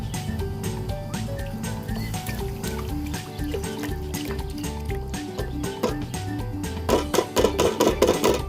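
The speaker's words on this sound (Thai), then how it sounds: "ใส่กะทิ" Coconut milk pours into a pot for Thai bananas in coconut milk, a steady liquid splashing and trickling that runs throughout, growing busier and more bubbly near the end.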